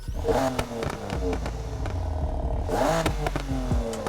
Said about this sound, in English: And then for my exhaust, we're gonna start this thing up. Like I said, it's a 3-liter straight 6.